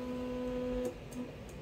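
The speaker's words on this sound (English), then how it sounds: "So as you see here, it's printing." Elegoo Neptune 4 Pro 3D printer running a print, heard as a steady tonal stepper-motor whine that cuts off partway through, then short, softer motor movements follow.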